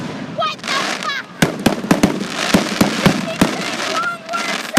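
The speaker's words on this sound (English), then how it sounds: "explosions, those big explosions" Canada Day fireworks over McAdam, recorded from a drone, burst in a quick run of sharp, loud bangs and crackles about every quarter second, with excited voices shouting over them.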